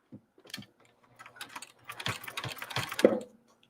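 A sewing machine stitching a seam on an oven mitt, running in short uneven bursts of rapid mechanical ticking and whirring up close, pausing between runs and growing busier toward the end.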